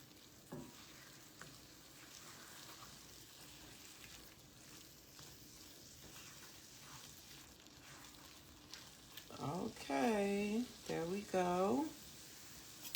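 A plant-based tofu scramble with spinach and bouillon cooks down in a pan, with a soft, close, steady sizzle and occasional stirring scrapes, and a person speaking briefly near the end.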